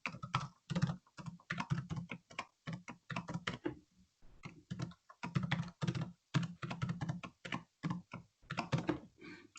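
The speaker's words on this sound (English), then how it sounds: "I'm still not capable of typing in a complex password and talking at the same time" Keys clatter as a password is typed on a computer keyboard, in close, rapid bursts of clicks with brief pauses between runs of keystrokes.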